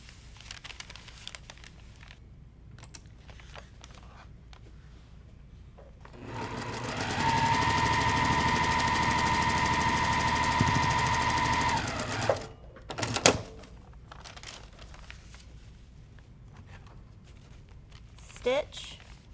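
A sewing machine runs a steady stitching burst of several seconds through quilt fabric pieces for a table runner, with quiet handling noises and a speaking voice before and after.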